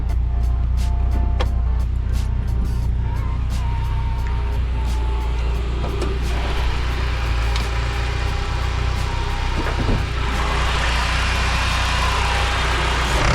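The engine of a supercharged Acura RSX at a dyno day, running loud and close with a steady low rumble throughout, plus some rattling and clicking from around the car.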